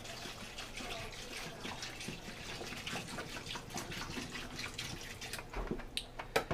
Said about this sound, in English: I'm going to take some fresh distilled water, and I have the instruments in this bowl. I'm going to fill it so that they're all covered